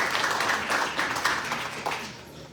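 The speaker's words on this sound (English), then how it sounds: "I'd like to give them all a round of applause" An audience at a candidate forum gives a round of applause, a steady wash of clapping lasting a few seconds at moderate distance.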